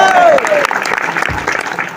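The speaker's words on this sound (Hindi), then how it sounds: "ताली बजाकर बोलिए प्रभु यीशु मसीह की।" A congregation at a Church of God fasting prayer meeting breaks into loud, brisk clapping as a preacher's raised voice trails off, the applause continuing close and full.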